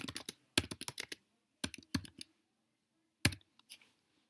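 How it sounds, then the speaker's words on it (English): Fingers type on a computer keyboard in quick bursts of close, crisp key clicks, separated by short silent pauses. "You're also going to type your name"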